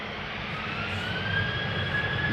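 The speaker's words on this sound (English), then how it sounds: "This is KLM flight 1269 to Copenhagen." KLM jet airliner departing Amsterdam Schiphol on a flight to Copenhagen, a steady close jet engine roar with a rising whine that swells slightly as it goes.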